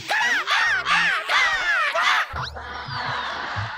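About five harsh crow caws come in quick succession, loud and close, followed by a quieter stretch of rough background noise.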